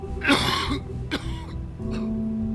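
A game character in The Wolf Among Us coughs in a few rough, throaty bursts, close and fairly loud, followed by a quieter, lower strained sound.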